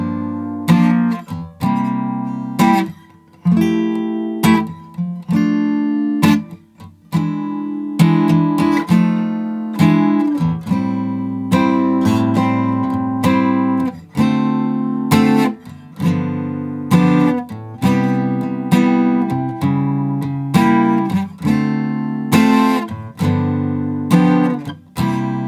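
Guitar playing the bridge of a song, a clear, close run of strummed and plucked jazz chords in a slow steady rhythm, played alone with no talk.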